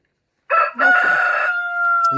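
A rooster crows loudly and close by in a backyard coop of mixed-breed chickens, one long drawn-out call with hens faintly present and no talking.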